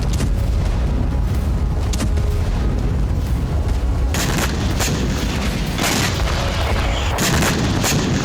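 Heavy booms and blasts from Russian bombing in Ukraine with FAB-500 bombs, loud, continuous rumbling with several sharp impacts spread through the clip.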